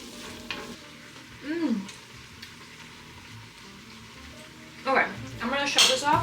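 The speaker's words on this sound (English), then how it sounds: "you can just let it all cook together until the cauliflower is nice and" Vegetables with cauliflower sizzle in a pan while being stirred, a soft steady frying hiss broken by louder scraping and clattering bursts, with some background noise.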